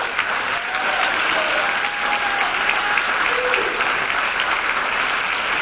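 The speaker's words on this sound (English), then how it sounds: "So another round of applause for" At a high school jazz concert, the audience applauds the senior band members with a full, loud burst of clapping that carries evenly throughout, with faint tonal hints lingering beneath the dense crackle.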